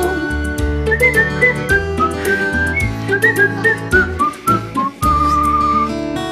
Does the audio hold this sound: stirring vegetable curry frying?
no